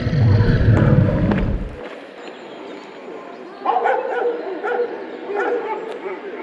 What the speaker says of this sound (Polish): ludzie piszą, że jest dużo bezdomnych psów, żeby uważać, bo są wielkie